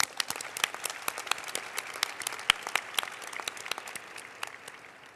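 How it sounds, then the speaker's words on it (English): A small crowd at a closing ceremony claps steadily for several seconds for competing teams, the applause slowly thinning out toward the end. "let's give these teams another round of applause"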